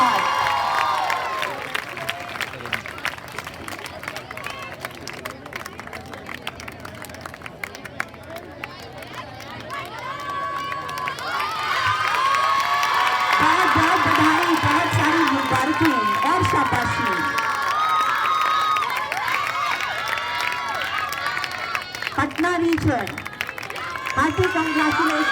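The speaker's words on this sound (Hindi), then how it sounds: "और जोर से ताली बजाइए, आपकी आवाज से ज्यादा तेज आपकी तालियों की गूंज होनी चाहिए।" Crowd at a national school sports meet closing ceremony claps and cheers, building into a loud sustained roar midway, with an announcer's voice over the noise.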